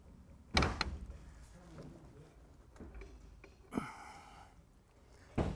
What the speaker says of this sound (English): I'm going to try to pull this out of here. Cam's going to pry on the other end.